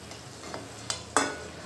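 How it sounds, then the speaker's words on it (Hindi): Onion dal vadas fry in hot oil over a medium-low flame, a quiet sizzle broken by a few sharper bursts of bubbling and a clink as pieces are moved or lifted out. "ऐसे ही निकाल के हम लोग सारे वड़े तल लेंगे।"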